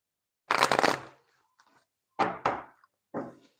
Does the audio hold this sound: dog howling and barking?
no